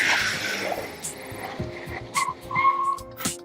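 A car driven by a professional driver brakes hard from 60 mph on worn tires, giving a moderate rush of road noise with short, thin tire squeals and skids breaking through near the end.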